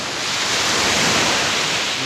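Choppy sea waves surging around a boat, a steady broad roar of surf and wind noise close by, continuous with no pauses.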